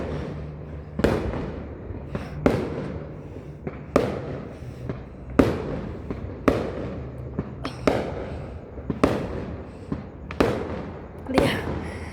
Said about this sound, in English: Guys, that's fireworks right now.